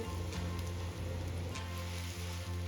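Pav bread rolls roasting in masala in a hot pan, a steady close sizzle and frying hiss throughout with a few soft bumps, no talking.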